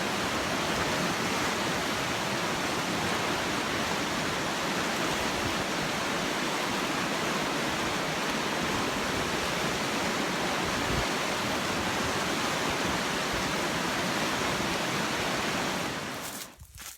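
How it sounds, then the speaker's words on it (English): River rapids on the Florida Trail in the Big Bend region rush in a steady, loud, broadband roar of churning water that continues unbroken for the whole stretch before cutting off abruptly at the end. "Another look at the rapids."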